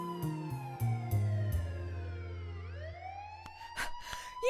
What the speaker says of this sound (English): That's when the sirens of police cars were heard.